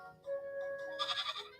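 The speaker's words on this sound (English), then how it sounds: "Goat noises." A goat bleats in the video game Little Goody Two Shoes: a single short, quiet, wavering bleat heard on its own.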